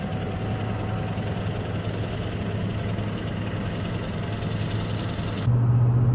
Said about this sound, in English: So we got the dirty Duramax down there. Listen to the sound of that thing